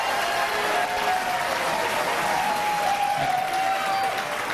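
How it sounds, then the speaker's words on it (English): Audience clapping at a Connecticut gubernatorial debate, a steady, moderately loud wash of applause from a hall crowd with faint voices mixed in. "please hold your applause."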